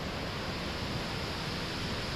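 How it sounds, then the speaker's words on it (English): A small roadside waterfall fed by discharge from a dam above gives a steady, dense broadband rush of falling water, loud and close, with no pauses and no voices. "This is a small waterfall along the way, and I think this is a discharge from the dam somewhere above there."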